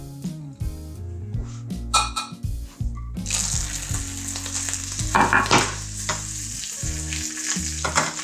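Acorn squash pieces fry in hot oil, giving a bubbling crackle and sizzle that is partly masked by loud background music from start to finish.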